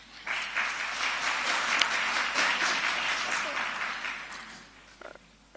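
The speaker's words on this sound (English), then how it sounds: "May I request that there be no clapping of hands, please?" An audience claps steadily in a courtroom during a corruption inquiry hearing, with sustained applause from many people at moderate distance that fades out near the end.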